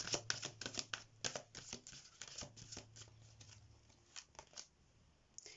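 Close, crisp riffling and flicking of tarot cards being shuffled, a quick run of snaps that slows and thins toward the end.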